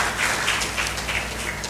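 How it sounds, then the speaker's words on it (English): An audience in a hall claps after a speaker introduces an assistant director, a dense steady patter of many hands at moderate distance, fairly loud throughout the short stretch. "Please a round of applause for him."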